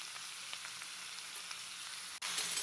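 Broad beans fry in a pan with a pinch of turmeric, a soft, fairly quiet sizzle that holds steady, briefly cuts out, then returns a touch brighter.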